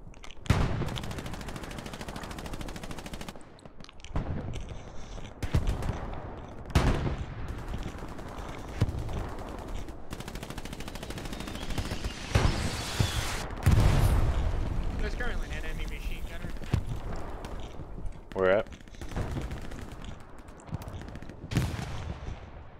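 Machine gun fire and distant blasts crackle throughout a World War II battle in Hell Let Loose, in repeated bursts with pauses and a louder stretch midway, while voices talk over the fighting.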